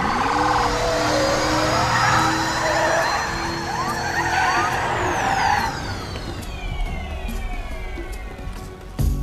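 A police car drives fast, with a loud engine roar and passing vehicle noise, squealing tones sweeping through the upper range and voices talking over the driving.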